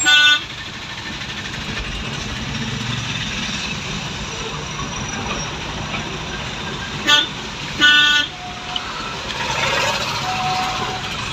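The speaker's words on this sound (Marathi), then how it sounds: "पूर्ण ट्रॅफिक लागलेलं आहे नेवाळी वस्तीमध्ये" Traffic is jammed on a narrow road through Newali settlement, with a continuous wash of engines and road noise and several short car horn toots standing out at the start and again around the middle.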